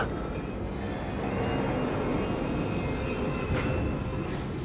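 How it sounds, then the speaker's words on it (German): Rocket-powered train in the Wolfenstein II video game, a steady loud roaring rumble with a rushing hiss on top and brief swells toward the end. "Haben die jetzt etwa raketenbetriebene Züge?"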